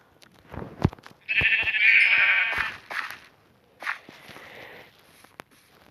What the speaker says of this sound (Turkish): burada koyun falan vardı